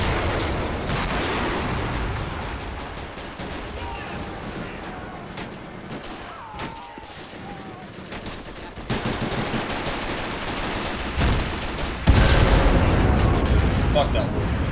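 Continuous battle noise in the video game Men of War: Assault Squad 2, 4v4 match, with bursts of gunfire and booming explosions, dense and loud throughout, with a heavier blast near the end.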